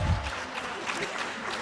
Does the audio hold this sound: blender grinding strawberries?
no